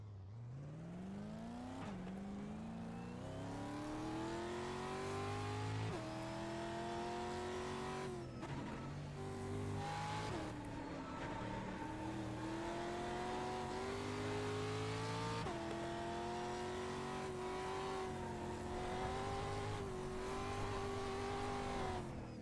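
An F1 car on a qualifying lap at the Red Bull Ring in the iRacing video game, its engine screaming continuously with rising revs through the gears and sharp dips on upshifts and braking, loud and steady from start to end.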